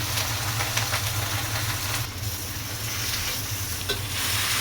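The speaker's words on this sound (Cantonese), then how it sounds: "攞鑊鏟翻菜" Vegetables stir-fried in a wok over high heat, a spatula turning them through steady, close sizzling and scraping, with a low hum of the burner running underneath throughout.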